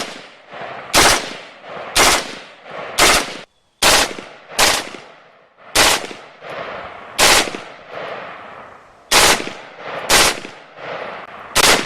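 An FN M16A4 rifle fires in three-shot burst mode, about a dozen sharp, loud bursts spaced roughly a second apart, each with a ringing decay, heard close and alone.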